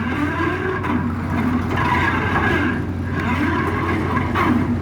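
An excavator bucket grinds and rumbles steadily in a stone quarry, with gritty scraping and clattering stone throughout, loud and close.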